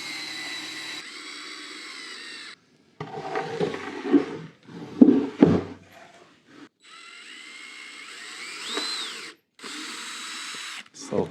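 A power drill driving long 3-inch screws into a wooden toolbox: several loud whirring runs of the motor, broken by short pauses and a few clunks of wood, close and alone.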